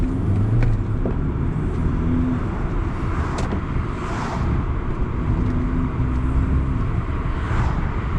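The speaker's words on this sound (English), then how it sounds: "That turbo noise does, I have to say, it does make it more entertaining, to be honest." Inside a moving BMW 220i Gran Coupe, a steady road and engine drone carries a faint turbo whoosh that rises and falls, with no talking.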